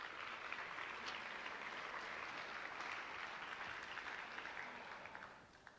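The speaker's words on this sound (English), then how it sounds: "A round of applause for them, please." Sustained audience applause at an international song contest, steady and dense throughout before easing slightly toward the end, with no talk over it.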